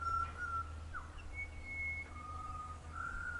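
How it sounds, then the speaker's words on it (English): Butcher birds calling on a sunny August day, a handful of clear, sustained whistled notes rising and sliding in turn over a steady low hum, fairly close and distinct with no talking. "Can you hear all the butcher birds?"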